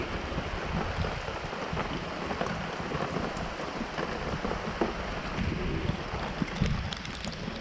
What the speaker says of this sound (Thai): นี่ฝนตก